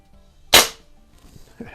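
Single sharp report from a Crosman 2240 air pistol fitted with a 1/2-20 suppressor, a loud close crack that decays quickly, with faint movement noise after.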